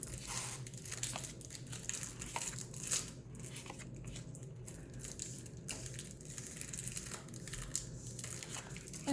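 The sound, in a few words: opening Magic the Gathering booster packs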